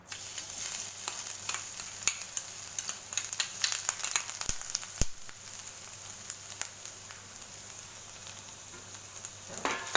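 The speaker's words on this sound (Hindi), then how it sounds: "अब इसमें मैं लहसुन और अदरक डाल दूंगी।" Garlic and ginger fry in hot oil, sizzling and crackling steadily at low volume, with occasional sharp pops and a faint background hum.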